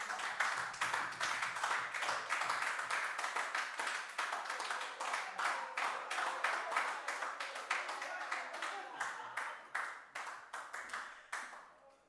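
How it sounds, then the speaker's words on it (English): An audience claps for the candidates at a school debate, a quick, dense patter of many hands that keeps going for several seconds and slowly thins toward the end, with speech faintly underneath. "let's give another round of applause for the candidates"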